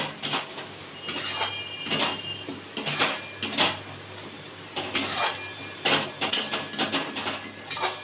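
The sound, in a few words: chicken being added to pan with spices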